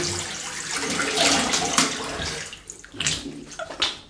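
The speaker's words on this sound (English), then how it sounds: "Quick rinse again." A shaving razor is rinsed under a running tap, a continuous close splash of water that drops out briefly near the end before resuming, with no talking.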